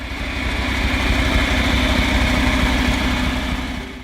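A John Deere 3020 tractor engine idles steadily, a low continuous rumble with an even mechanical throb that holds at constant loudness throughout, close by and with no voices.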